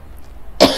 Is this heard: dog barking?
no